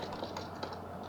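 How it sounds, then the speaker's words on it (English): Gentle, rapid taps on a computer keyboard during a Kerbal Space Program docking maneuver, a steady stream of light clicks with a few slightly sharper keystrokes, close and alone. "I like to use small, gentle taps of the keyboard"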